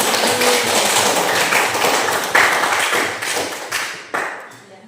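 A classroom of students clapping in applause, a dense continuous patter of hand claps that holds steady and then tapers off toward the end.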